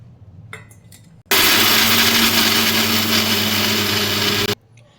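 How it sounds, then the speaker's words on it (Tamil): A kitchen mixer grinder pulses raw coconut and turmeric into a coarse paste, roaring loudly at a steady pitch for about three seconds. The motor starts and stops abruptly, with faint clatter before and after. "இப்போ இதை வந்து மிக்சியில் போட்டு பொடி பண்ணி எடுத்துக்கலாம்."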